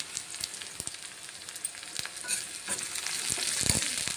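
Green chillies and curry leaves frying in an iron kadai, a bright crackling sizzle that swells slightly, with light stirring scrapes and taps throughout.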